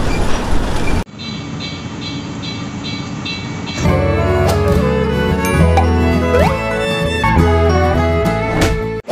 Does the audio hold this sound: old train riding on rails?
yes